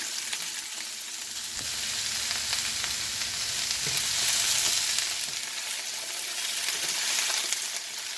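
Mixed vegetables stir-fry in hot garlic oil, a loud, steady close-up sizzle with faint scraping of stirring throughout.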